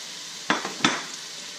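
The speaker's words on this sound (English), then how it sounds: "You're going to saute that up." Mushrooms stirred in a pan of butter for soup, with two quick utensil scrapes and a soft clink over a low steady sizzle, close and brief.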